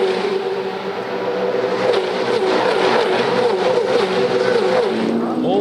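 V8 Supercars roar around the Adelaide street circuit in a 2013 race, with a steady, loud, dense engine drone from several cars passing close together and faint commentary underneath.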